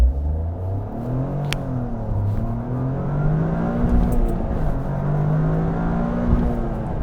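A 2023 Toyota GR Corolla accelerating hard, its engine note rising and falling through repeated revving sweeps, loud and close over a constant road rumble.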